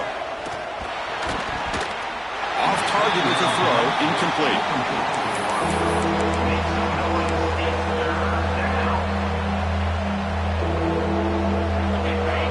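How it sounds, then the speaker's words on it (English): A loud, dense crowd roars continuously at a college football game between ECU and USF while a commentator talks over it, with a steady low hum swelling beneath the noise midway through as the stadium vibrates. "listen to this crowd noise. This stadium is vibrating."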